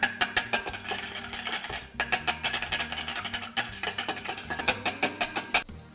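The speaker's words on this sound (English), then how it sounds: "Whisk that bad boy up" A whisk beats fast through a milk and sugar mixture for French toast, giving rapid, steady clinking strokes against the bowl up close, loud and continuous with short pauses.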